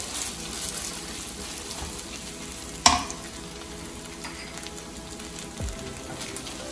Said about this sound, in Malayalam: നന്നായി ഒന്ന് ഇളക്കി കൊടുക്കണം നെയ്യൊക്കെ എല്ലായിടത്തും പിടിക്കാനായിട്ട്